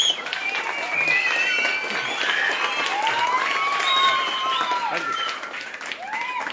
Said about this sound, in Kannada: ಮಾತಾಡ್ಲಿಲ್ದರಿಗೆ ಇನ್ನೂ ಜೋರಾಗಿ ವಿಜಲ್ ಹೊಡೆದ ಚಪ್ಪಾಳೆ ತಟ್ಟಿ.